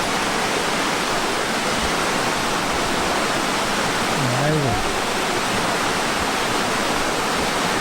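A waterfall roars loud and constant from nearby as a broad, unbroken rush, with a person speaking briefly over it partway through.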